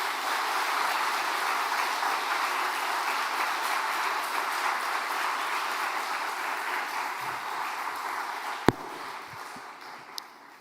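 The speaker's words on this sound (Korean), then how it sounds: "우리 선교사님 나오실 때 큰 박수로 환영하시겠습니다." Sustained applause from a church congregation in Uijeongbu welcoming a visiting missionary from Mozambique to the pulpit, a dense steady clapping wash that slowly thins toward the end, with a sharp knock near the close.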